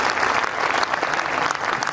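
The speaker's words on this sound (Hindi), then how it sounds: "एक बार जोरदार तालियां बजा" Loud, dense applause from the crowd at an all-India Hindi poetry gathering, a continuous wash of many clapping hands filling the whole moment with no voice on top.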